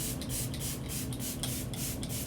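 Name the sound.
setting spray being sprayed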